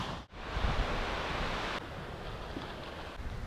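Waves on the beach at Stanley, Tasmania, heard as a steady wash of surf mixed with wind noise buffeting the microphone, fairly quiet and continuous with no talking.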